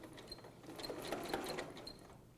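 A sewing machine stitching a quilt, a quiet, steady mechanical whirr with a soft rattling rhythm, running continuously for a couple of seconds with no voices.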